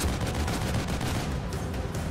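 Rapid gunfire in the survival horror game The Evil Within, a dense rumbling burst of shots that fills the whole stretch at steady loudness with no talking.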